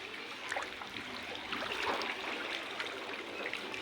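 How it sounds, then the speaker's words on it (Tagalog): Steady heavy rain pours down during flooding in Calumpit, Bulacan, in a dense, continuous hiss, with some splashing spikes here and there and no voices. "ang buhos ng ulan"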